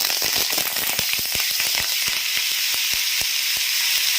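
Drumstick leaves fry in hot oil in a pan, a dense steady sizzle with frequent sharp crackles and pops, close up and continuous.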